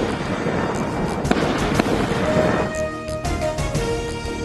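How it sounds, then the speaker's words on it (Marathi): Gunfire from a terrorist attack on tourists in Pahalgam's Baisaran valley, Jammu and Kashmir: sharp cracking shots over a dense, noisy background, with a couple of distinct loud reports midway, followed by a quieter stretch with faint tones. "दहशतवादी पर्यटकांवर गोळीबार करतानाचा"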